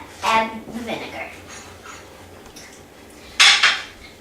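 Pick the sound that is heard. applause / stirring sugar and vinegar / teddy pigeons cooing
stirring sugar and vinegar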